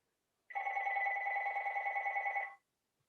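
A telephone bell rings in one continuous two-tone trill lasting about two seconds, clear and fairly close in an otherwise quiet room, with no talking over it.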